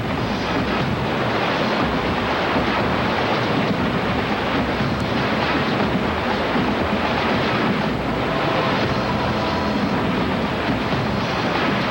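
Whitewater river rapids roar in a loud, unbroken wash of rushing water with wind buffeting, steady and dense throughout with no voices.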